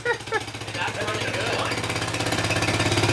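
An old go-kart engine warms up with a loud, rapid, rhythmic chugging and knocking that speeds up slightly and runs steadily throughout.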